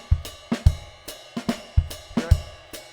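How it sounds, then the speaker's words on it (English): Drum groove alternating kick and snare hits, deep thumps trading with sharper cracks in a steady moderate rhythm, played alone and close. "you'd play the note values either on the kick drum or the snare drum"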